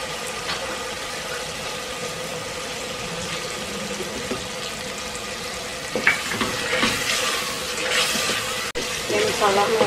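A low background hiss swells into a burst of bubbling, spattering sizzle after a few seconds as water is added to frying aloo gobi masala, close up, with some faint voice in the background.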